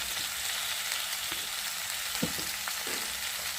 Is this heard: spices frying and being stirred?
yes